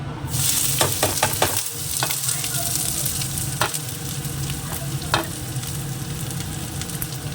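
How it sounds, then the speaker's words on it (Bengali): Chopped onion and garlic frying in a pan with a loud, steady sizzle, broken by repeated scraping stirs of a spatula, close up and continuous. "তো তার জন্য এই যে পেঁয়াজ আর রসুন কুচিটা আগে একটু ভেজে নেব।"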